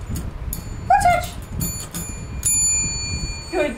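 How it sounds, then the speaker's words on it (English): A trained dog rings a bell on command: a bright ring that lingers and slowly fades, with a brief dog whimper just before it and some room noise underneath. "Ring the bell. Ring the bell."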